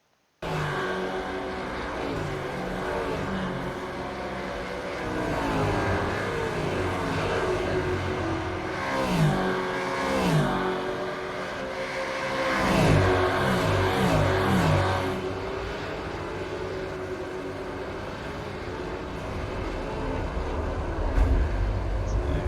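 Supercars racing at Road America in the iRacing simulator, a steady blend of engine roar rising and falling in repeated waves as cars pass and shift, continuous for over twenty seconds without talk.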